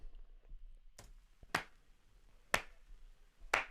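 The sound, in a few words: clap sounds in a beat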